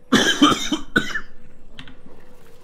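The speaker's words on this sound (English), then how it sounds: "I apologize for the coughing." Coughing from a man during a SMITE ranked 1v1 duel session: two or three harsh, close coughs in quick succession, followed by a quieter throat-clearing sound and faint background noise.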